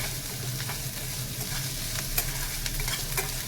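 Crushed garlic sizzles in hot oil for a masoor dal tempering, a dense, continuous close crackle with scattered sharper pops and a low stirring rumble beneath, no talking.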